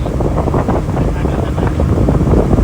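Steady roaring wind and rain lashing a fishing boat at sea during a storm, a loud continuous rush with buffeting on the microphone.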